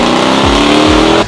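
A Mercedes E55 AMG engine roars loud and close in a brief, sustained rev with two quick dips in pitch, then cuts off sharply at the end.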